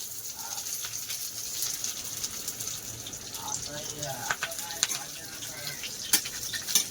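Red chilli, garlic and curry leaves frying in hot oil for dal khichdi, giving a steady soft sizzle with faint watery crackle throughout, fairly quiet and continuous.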